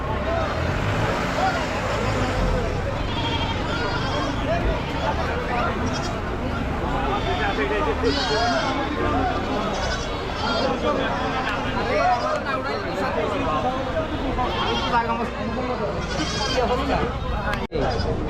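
Goats bleat at a busy hill goat market among constant chatter and bargaining voices, with traffic rumbling faintly in the background.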